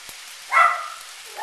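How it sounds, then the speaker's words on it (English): A poodle gives a single short bark in the background of a home kitchen, distant and moderately quiet against a faint hiss. "Guess you can hear my poodle barking in the background."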